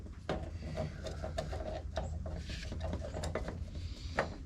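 A crescent wrench tightening a fitting while a 31-inch Mini Mondo is rebuilt, heard as faint close metallic ratcheting clicks and scrapes over a low room hum.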